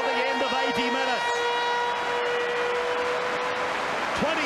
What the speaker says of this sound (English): There's the siren for the end of 80 minutes.